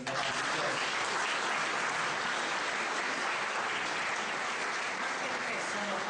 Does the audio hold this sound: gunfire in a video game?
no